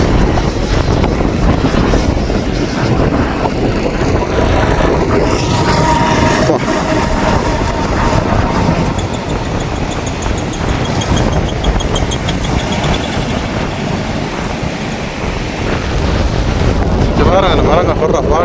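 Strong coastal wind near Palali, Jaffna, sets coconut trees swaying and roars in a loud, unbroken rush that buffets the microphone throughout.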